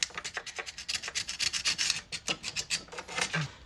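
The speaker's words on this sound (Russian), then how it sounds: "Очищаем блок от старой прокладки." An old gasket is scraped off a ZAZ Tavria engine block during a water pump replacement: rapid, rhythmic rasping strokes, close and steady, with no talk.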